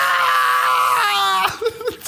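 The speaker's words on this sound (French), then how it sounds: "quelqu'un crier" A woman's sustained, loud scream from a Netflix horror show, the Outlast reality series, holds steady for about a second and a half before breaking into shorter, choppy vocal bursts.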